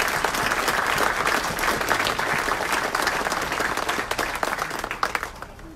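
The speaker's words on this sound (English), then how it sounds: "If we can give her a round of applause as well." Sustained audience applause at a city council meeting, dense steady clapping from a large group filling the room throughout, tapering slightly near the end.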